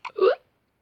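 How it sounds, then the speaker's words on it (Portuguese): A single short hiccup, close and clear, a quick two-part burst of breathy voiced sound followed by silence. "depressa vai ficar com soluço de novo."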